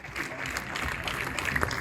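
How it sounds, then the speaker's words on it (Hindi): A crowd at a Hindu community gathering applauds steadily, a dense, loud wash of clapping that holds for the whole moment, with a voice faintly underneath. "आप सभी से अनुरोध है कि तालियां रुकनी नहीं"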